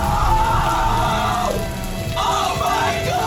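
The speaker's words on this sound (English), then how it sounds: "Raining so hard. So hard it's raining." Heavy rain pelts a rooftop infinity pool in Singapore, a steady loud wash of noise with excited shouting and voices from people caught in the downpour.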